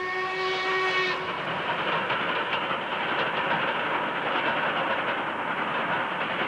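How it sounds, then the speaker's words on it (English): Two Black 5 steam locomotives climbing toward the tunnel under Cranberry Moss on a 1968 farewell to steam tour: a brief whistle blast opens, then a steady loud roar of working engines and rolling stock. "Two Black 5s head for the tunnel under Cranberry Moss on a farewell to steam tour in 1968"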